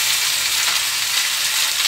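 Taro stolons and shrimp frying in a pan, a steady bright sizzle with crackling oil, loud and close, continuous, with no voices.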